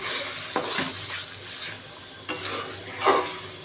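Tomato and dried red chili paste hits a pot for mutton curry, giving a soft sizzle with intermittent scraping and stirring clatters of a utensil against the pot, moderately close with no talking.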